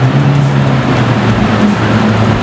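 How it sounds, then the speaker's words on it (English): An all-black Lamborghini Aventador Roadster's engine holds a steady, loud, close drone with a deep low-pitched hum and no clear rise in revs, heard alone. "All black Aventador Roadster."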